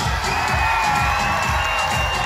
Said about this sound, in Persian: خانوما کمک آقایون هر دو با هم یه فریاد بی‌نظیر برو بالا